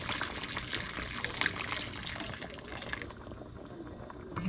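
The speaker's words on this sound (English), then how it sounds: "So we're gonna add some water now to let this" Water pouring into a pot of mutton curry, a steady broadband splashing and trickling that runs continuously at moderate loudness, easing slightly near the end.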